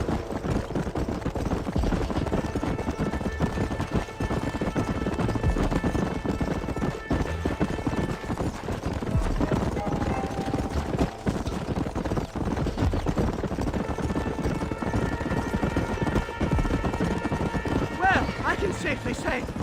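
Horse hooves gallop in a rapid, continuous clip-clop in the Red Dead Redemption video game, with occasional neighs, music-like tones and voices talking and shouting over the ride.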